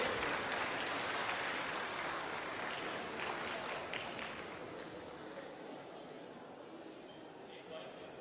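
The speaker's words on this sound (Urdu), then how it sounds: "آپ کی بھرپور تالیوں کی گونج میں" Sustained audience applause welcomes motivational speaker Sahil Adeem at a youth gathering in Lahore: a dense, loud wash of many clapping hands that holds steady and then eases slightly toward the end.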